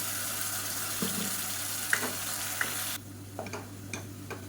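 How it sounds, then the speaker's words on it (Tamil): Ginger, garlic and onion paste sautés in a pan, a soft close sizzle with a few stirring scrapes and clinks, quiet and with no voices. "இப்போ நம்ம அரைச்சி வச்சுக்க இஞ்சி பூண்டு வெங்காய பேஸ்ட்டை சேர்த்துலாம் இது நல்லா பச்சை வாசனை போக வதக்கிக்கலாம்"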